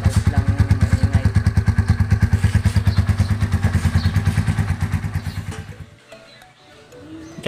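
A Motorstar Z200S motorcycle engine runs close by with a fast, even thumping beat that continues for about six seconds, then cuts out, leaving faint background noise.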